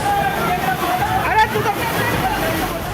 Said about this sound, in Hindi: पानी की ये आवाज आपको दहशत में डाल देगी।